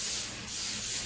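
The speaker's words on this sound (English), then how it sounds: "I use this lovely spray oil." A continuous hissing spray runs for about a second, close and fairly soft, with no voices.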